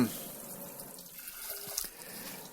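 A kitchen tap runs water into a glass or sink, giving a soft, steady, fairly faint splashing stream for a couple of seconds with a small clink near the end.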